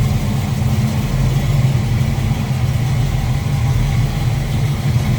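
A 1966 Ford Mustang Coupe V8 with an Edelbrock intake manifold idles steadily, a close, loud, even low-pitched rumble with a slightly lumpy pulse and no revving or voices.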